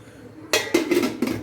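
A metal lid clanks down onto a cooking pot, followed by a few quick rattling knocks as it settles, close and fairly loud with no speech.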